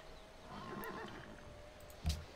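Horse in the Civilization 5 strategy game giving a short whinny, faint and brief, followed by a single soft hoof thump at the end.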